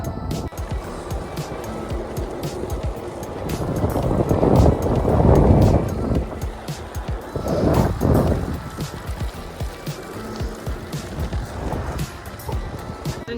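Wind gusts buffet an exposed campsite on a New Zealand cycle tour, a steady roar that swells loudest for a few seconds mid-way and then eases back into a constant rush.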